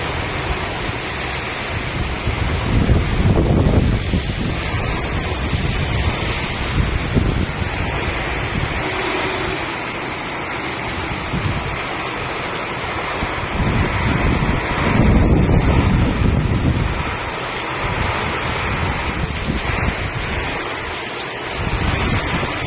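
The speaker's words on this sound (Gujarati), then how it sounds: "એવો ધોધમાર અત્યારે વરસાદ પડી રહ્યો છે" The season's first heavy downpour, driven by strong stormy wind: a loud, continuous roar of rain that swells with gusts buffeting close by, with no voices over it.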